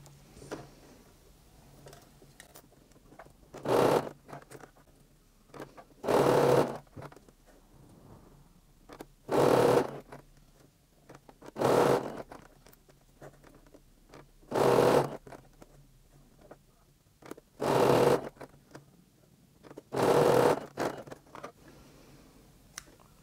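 A sewing machine stitches a seam in stretchy shapewear fabric, running in seven short, loud bursts at fairly regular intervals with quiet pauses between them.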